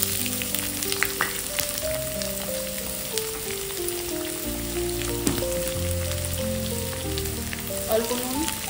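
Chopped onions dropped into hot oil tempered with whole cumin, garam masala, cardamom, cloves, cinnamon and a little sugar, sizzling and crackling steadily at close range with occasional sharp pops.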